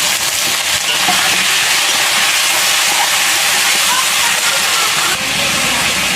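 Ginger, cumin, garlic, dried chili and chopped tomato sizzling loudly in a hot pan for a village-style duck curry, a constant close hissing roar with no break.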